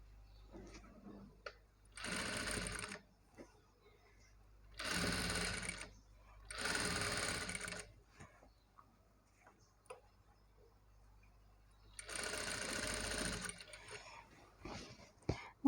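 A sewing machine stitches invisible piping around a garment neckline with a lining cloth, running in four separate bursts of steady whirring, each lasting one to two seconds, with quiet gaps and faint ticks between them.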